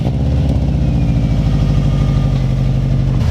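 A 2004 Subaru WRX engine with a newly installed Deatschwerks DW200 fuel pump runs at a loud, close, steady idle with a throbbing low rumble.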